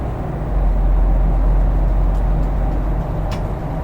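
Scania Citywide GN14 city bus engine in the OMSI 2 game, a steady loud low drone climbing through the higher rev range under acceleration, with no talk over it.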